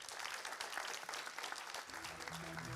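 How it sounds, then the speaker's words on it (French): An audience applauds at a talk show interview, producing a soft, distant wash of many hands clapping, steady and uniform, with a faint low hum emerging near the end. "ça s'applaudit quand même"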